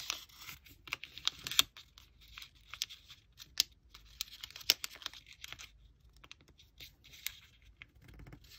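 Paper being creased and folded for an origami angel, soft crisp crinkles, taps and rustles coming in irregular bursts, faint and close, with no talking.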